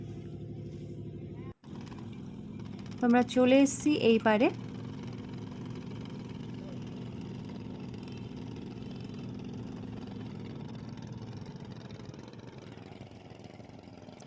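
Motor boat engine droning steadily while crossing the Ganges river, a low continuous hum throughout, briefly joined by a voice speaking over it.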